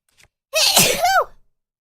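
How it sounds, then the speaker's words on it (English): After a faint intake of breath, a woman lets out a single loud, explosive sneeze up close, lasting under a second, then silence. "Oh, I just sneeze."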